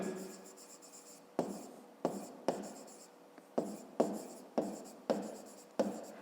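Pen writing by hand on paper while solving a fifth-grade math exercise, close scratchy strokes in short repeated bursts, each starting with a sharp tap and tailing off, about ten in a row.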